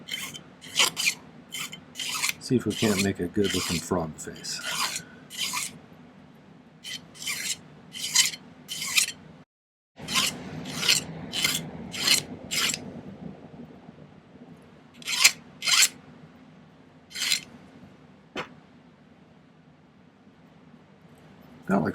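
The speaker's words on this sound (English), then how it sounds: "I'm just going to clean this up with my file." A hand file rasps on a metal pendant in quick repeated strokes, bursts of scraping with short pauses, while a person talks briefly over it.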